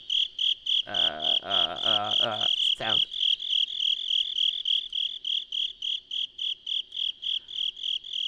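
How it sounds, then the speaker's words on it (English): Crickets chirping in a video game, a loud, steady pulsing trill that runs throughout; near the start a croaking, frog-like call sounds several times over it, and a brief spoken word is heard. "Oh my god, I'm just gonna hear nothing but crickets. Oh, it's so loud."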